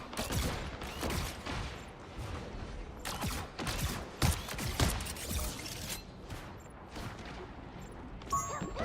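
Fireworks crackle and pop in rapid, dense bursts during a Spider-Man game mission, loud and near, with sharp clustered bangs that keep recurring over a busy mix of game sounds.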